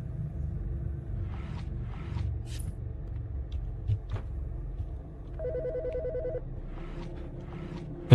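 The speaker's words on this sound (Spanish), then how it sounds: "Teléfonos creo que es para asustarte" Telephone ringing inside a house in the stealth video game Midnight Heist, a repeated electronic ring in short bursts over a low rumbling game ambience, fairly faint and with no voices.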